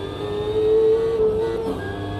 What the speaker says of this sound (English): Great sound here from the engine.